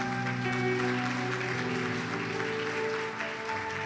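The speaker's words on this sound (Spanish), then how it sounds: "Aplausos al Señor." A church congregation applauds in praise during a Spanish-language service, steady dense clapping sustained for several seconds, loud and close, with musical tones ringing underneath.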